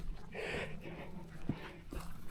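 A dog pants softly at close range with quick breathy huffs and a couple of snuffling bursts, quiet and alone.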